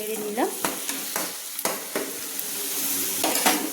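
Spices with coriander and black pepper powder fry for a Kolkata-style chicken biryani as a spatula scrapes and knocks against the pan in repeated strokes over a steady close sizzle.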